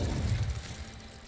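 A fire spell cast in a Hogwarts video game gives a low, rumbling whoosh of flame, loudest at first and then thinning out over about a second.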